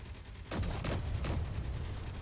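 Cannons firing in Space Engineers, a burst of several dull, rumbling booms in quick succession after a short quiet start, heavy and somewhat distant.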